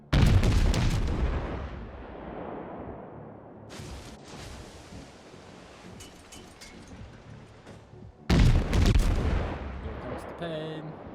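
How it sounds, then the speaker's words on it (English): Heavy naval gunfire from World of Warships, armor-piercing shells fired at a New York battleship, with loud booming salvos at the start and again near the end separated by a quieter rumbling stretch of sea ambience. "firing AP on a New York"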